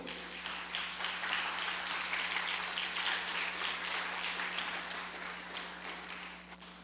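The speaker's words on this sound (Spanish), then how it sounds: "Denle un aplauso a Dios, por favor." A church congregation applauds steadily, a dense wash of clapping that holds for several seconds with a faint hum underneath.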